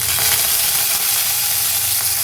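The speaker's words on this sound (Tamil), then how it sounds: "இப்போது கருவேப்பிலை பொரிஞ்சு வந்துருச்சு" Curry leaves splutter in hot oil with mustard seeds and urad dal while tempering kosu chutney for idli and dosa. A steady, loud hiss of crackling fills the whole stretch with no voice.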